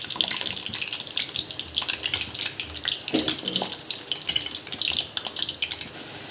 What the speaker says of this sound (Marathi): बटाटे पण तळूया